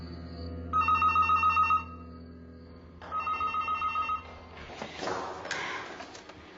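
A telephone bell rings in two clear bursts with a pause between them, loud and close in a quiet room, followed by a brief rustle as it is picked up.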